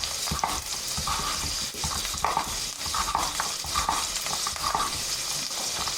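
Butternut squash cubes sweat in a saucepan with a soft, steady sizzle. A spoon stirs them in a repeating scraping rhythm, and no one speaks.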